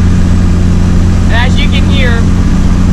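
A 12-valve Cummins diesel swapped into a 1994 Ford F250 pickup runs steadily at idle, a low, even rumble that stays constant throughout, with a person briefly talking over it.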